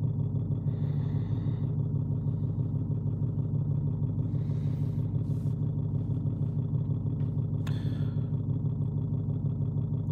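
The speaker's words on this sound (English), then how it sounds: "The engine's, that's the exhaust, it's not the engine." A car exhaust rumbles steadily in a low, continuous drone, near and even throughout, with a few faint clicks and rattles over it.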